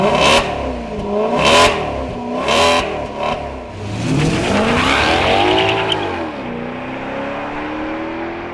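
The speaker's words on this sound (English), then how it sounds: "listen to the Ferrari sourced V8, which is nothing short of a precision musical instrument" A Maserati Quattroporte S with its Ferrari-sourced 4.7-litre V8 revs hard, with several sharp blips and then a long rising and falling sweep of engine note, loud and close.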